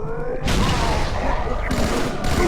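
A grenade blast in the Halo 2 video game, a loud booming burst that rises abruptly over ongoing game noise and holds for about a second before a second heavy crash follows.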